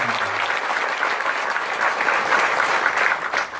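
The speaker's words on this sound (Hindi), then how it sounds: "एक बार आप अपने लिए ताली बजा लीजिए।" Sustained applause from an audience at a Mumbai training event, steady and fairly loud from start to finish, with no talking over it.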